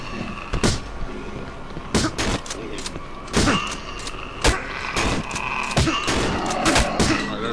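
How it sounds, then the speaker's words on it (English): Shotgun blasts in the horror video game Cry of Fear, a series of loud booming shots at irregular intervals mixed with thuds and mechanical clatter, up close and dense throughout. "The shotgun's really good for fighting these ones."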